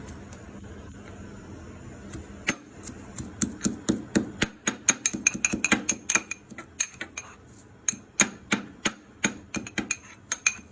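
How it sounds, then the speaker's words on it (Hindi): Green chillies pounded in a mortar with a pestle, a run of sharp, close knocking strikes that start sparse, then come quickly in irregular bursts, with no talking over them. "तो मोटर पेस्टल में लेके आप इस तरह से क्रश कर सकते हैं"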